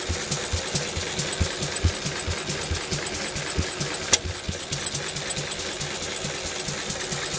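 A 1951 Lister D stationary diesel engine runs steadily close by, its loud, even thumping beat and mechanical clatter continuing without a break throughout.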